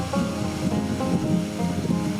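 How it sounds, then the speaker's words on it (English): Waterfall at a coastal inlet in Nova Scotia, a continuous broad rushing roar of falling water heard from a short distance, steady and fairly loud with no voices. "A waterfall."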